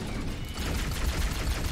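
Sustained gunfire from Halo 1 rattles in a dense, loud burst aimed at the player, a continuous roar of shots with no gaps across the short moment.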